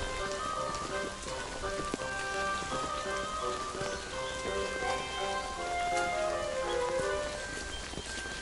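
Cold autumn rain falling at dusk around a pond in wooded cover, a dense steady patter of drops on surfaces with scattered sharper taps, continuous and close, no speech over it.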